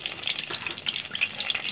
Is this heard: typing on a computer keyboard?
no